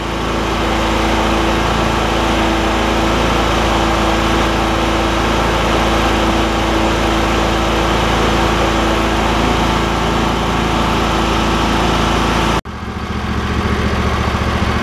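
A John Deere L120 lawn tractor engine runs at a steady loud drone, close by, with a sudden shift near the end as it drops to idle.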